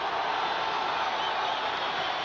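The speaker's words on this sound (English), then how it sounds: "Here comes the crowd again." Steady roar of a stadium crowd at a New Orleans home football game against Los Angeles, a dense continuous wash of massed voices that holds level throughout without breaks.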